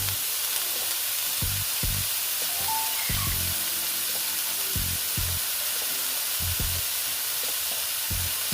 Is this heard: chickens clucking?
no